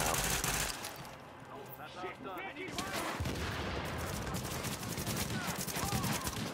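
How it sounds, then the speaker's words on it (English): Pistol fire in Tom Clancy's The Division 2, a quiet opening followed by rapid, repeated gunshots filling the second half, with game effects and some talk mixed in. "Are you using a pistol?"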